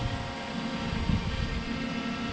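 A small camera drone hovering nearby, a steady, dense whirring buzz of propellers held at an even loudness throughout, with no voices.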